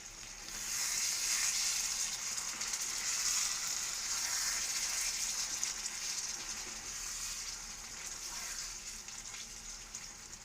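Chicken cashew masala curry simmers in oil with ghee, giving a steady, even sizzle and bubbling that runs throughout at moderate loudness, with no voices.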